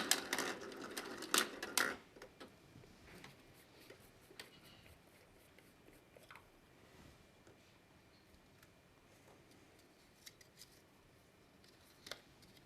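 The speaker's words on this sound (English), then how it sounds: "I'll shuffle the balls" Plastic draw balls rattle and clatter together in a bowl at a UEFA Nations League knockout draw, a burst of dense clicking for about two seconds that thins to faint, scattered knocks.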